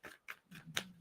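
Tarot card deck shuffled by hand, a few quick crisp riffling bursts in close succession, near and fairly quiet, with no talking.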